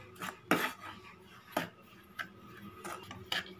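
A utensil scrapes and taps in a pan while powdered semolina and sugar are stirred over a low flame for rava ladoo, with several sharp, separate clinks and scrapes spaced out against a quiet background.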